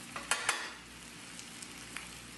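Rice being stirred with melted butter in a pot: a few soft scraping clinks of the spoon early on, then a low, faint sizzle with occasional light taps, no voices.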